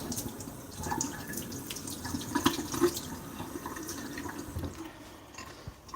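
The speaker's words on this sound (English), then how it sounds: "Let's wash down this apex." Water runs steadily from a tap over a knife being rinsed clean after a sharpening session, with a few soft clinks and splashes as the blade is moved under the stream, close and fairly quiet.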